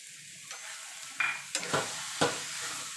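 Mashed roasted eggplant with chopped coriander leaves is stirred in a pan, with a few scraping, sizzling strokes close by over a quiet background.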